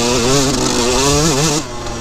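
A two-stroke motorcycle engine revs hard on a trail ride in Dillon, Colorado, a loud, close, buzzing whine rising and falling in pitch before easing off near the end, with no talk over it.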